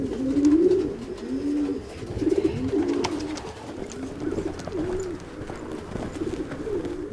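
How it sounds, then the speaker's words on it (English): Racing pigeons kept as a hobby coo in a loft, a close, steady run of soft rolling coos overlapping one another with faint rustling behind. "I have racing pigeons as my hobby"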